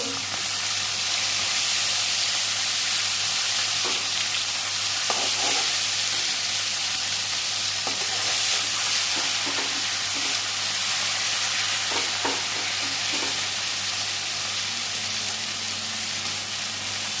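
Kajli fish curry cooks in hot oil, giving a steady, loud frying sizzle with a constant hiss, while occasional soft scraping and clinks of a stirring spoon sound against the pan.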